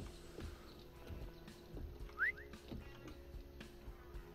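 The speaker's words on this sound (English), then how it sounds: "Did he just whistle?" A short rising whistle chirps once, clear and fairly close, from a character in the zombie survival video game 7 Days to Die, over a low steady game ambience.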